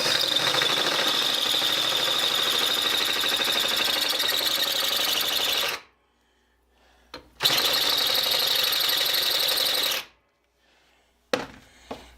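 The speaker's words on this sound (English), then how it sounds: "Before I do that, I'm going to chamfer this piece right here." A steel piece is chamfered before welding during a band saw rebuild with a bearing block, giving two long, loud, shrill grinding bursts separated by near silence, with a short restart at the end.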